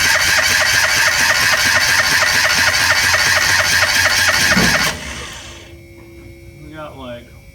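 A Kawasaki Mule 2510 engine runs with the throttle held open, a loud, steady, rapidly pulsing roar close by that cuts off abruptly around five seconds, leaving quiet background with faint chirps.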